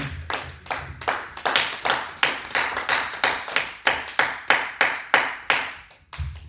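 A church congregation claps together in a steady, even rhythm of sharp hand claps, loud and sustained, acclaiming the Lord during a Pentecostal service.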